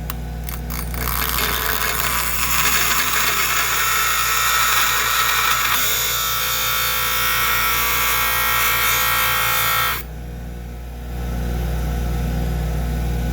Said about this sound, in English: make sure the thing gets up to full speed before you start grinding. And then we're going to start grinding.